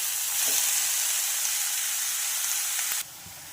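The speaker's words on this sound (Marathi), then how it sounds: "ह्या भाज्या आपल्याला हलक्याशा परतून घ्यायच्या आहेत" Mixed vegetables for parathas sauté lightly in a pan, making a loud, steady close-up sizzle and hiss that drops off sharply near the end, with no voices.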